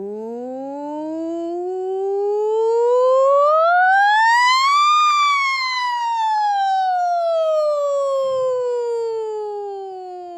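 A voice imitates a siren, sliding smoothly upward in pitch then back down in one long continuous wail, loud and close with strong harmonics during a vocal exercise in a studio.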